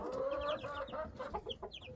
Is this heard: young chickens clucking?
yes